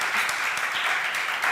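Steady audience applause fills a Spanish literary event celebrating women writers, a dense wash of many hands clapping at close range throughout, with no speech over it.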